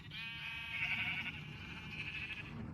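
A sheep in the Minecraft video game lets out one drawn-out wavering bleat close by, lasting about two seconds, over a low steady background.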